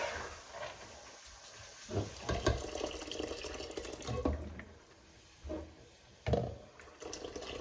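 Water poured into a pot of chana dal in a home kitchen, a faint splashing trickle that comes and goes in several short pours over a low background hum, with no speech.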